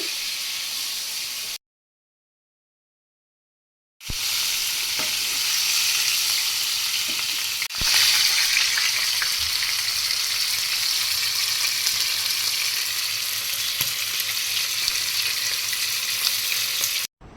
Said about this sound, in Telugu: దీన్ని అటు ఇటు తిప్పుకుంటూ హై ఫ్లేమ్లోనే పెట్టుకొని వేయించుకోవాలి ఒక 10 నిమిషాలు